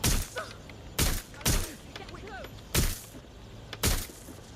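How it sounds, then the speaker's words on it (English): Scattered gunshots in Watch Dogs: Legion, five sharp close bangs at uneven intervals with quieter gaps between, with faint voice-like sounds underneath. "They're shooting at me because I have my gun out."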